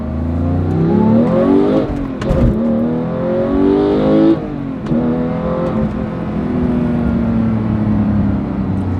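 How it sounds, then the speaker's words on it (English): A 2018 Porsche 911 GT3 with a manual gearbox revs hard and accelerates up through the gears, loud and close, the engine note climbing and dropping with each quick shift. "the car is just violent going through the gears"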